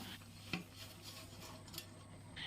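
Scraping and stirring flattened rice (aval) in a pan, with soft rasping strokes and a clink of a utensil against metal, close by and without talk.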